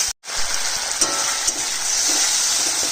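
Paneer curry spices sizzle loudly in a pan as a little water is added, a brief hush, then an intense, steady frying hiss with small pops and bubbling, close and continuous.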